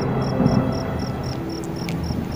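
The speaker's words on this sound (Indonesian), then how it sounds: "Bisik jangkrik tetaplah sabar" Crickets chirping at night in a steady, evenly spaced pulse of bright repeated chirps, close and clear over a soft background hiss, with no voices.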